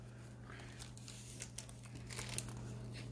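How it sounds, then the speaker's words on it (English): Panini Frozen 2 sticker pack being torn open, faint crinkling and papery tearing over a steady low hum, with brief soft crackles up close. "Let's go ahead and open up our next sticker pack."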